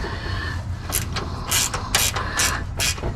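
A gear wrench ratchets while loosening a nut during a rear axle swap on a Dodge Dakota, giving several loud, close bursts of rapid clicking separated by short gaps.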